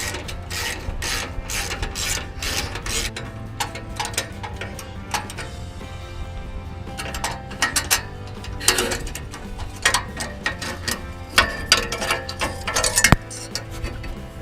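A ratchet wrench loosens the 1/2 inch nut on a V-band exhaust clamp fitted to long tube headers, giving close, rhythmic ratcheting clicks in repeated bursts with no talking.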